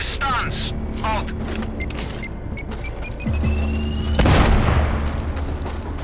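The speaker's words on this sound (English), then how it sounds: "Explosion heard." A heavy boom erupts near the end of a tense scene in the shooter game Sniper Ghost Warrior Contracts 2, following beeps and clicks, with a low rumbling tail and voices talking before it.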